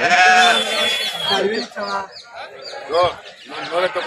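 Sheep bleat repeatedly amid a busy crowd at a sheep market in Allagadda, with people talking loudly nearby throughout.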